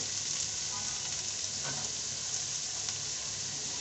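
Broccoli and cabbage stir-frying in a pan on high heat, a steady close sizzle and crackle that holds evenly throughout with faint stirring scrapes.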